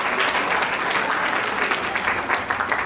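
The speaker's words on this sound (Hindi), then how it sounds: "जोरदार तालियां बजाकर" Loud, dense applause from an audience at a Rajasthani cultural event, a steady wash of many hands clapping close by throughout with a few sharper claps near the end.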